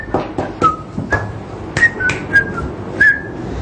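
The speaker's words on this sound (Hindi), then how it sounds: "कुछ खुश हों तो सीटी बजाते हैं" A man whistles a cheerful, choppy tune in short bright phrases, close and clear, with no talking.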